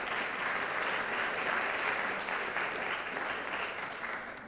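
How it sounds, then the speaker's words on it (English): Audience at a distinguished speaker series on early education breaks into dense, sustained applause, a thick wash of many hands clapping together that holds steady, then begins to taper off near the end. "So please, a round of applause for all of our guests and for our sponsors."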